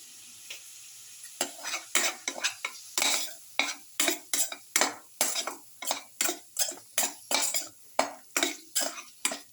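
A utensil stirs garlic shrimp tomato casserole in a pan, with rhythmic scraping strokes repeating about twice a second amid a light sizzle, close and clear with no voices.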